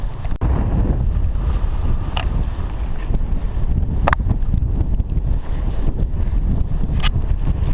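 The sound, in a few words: side wind blowing while sea fishing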